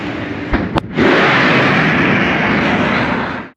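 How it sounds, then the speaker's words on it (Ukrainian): A Concorde's sonic boom: a sharp crack followed by a sudden loud, sustained roaring blast that fills the air and then cuts off abruptly. "звуковий удар, явище, яке відбувається, коли транспортний засіб долає звуковий бар'єр"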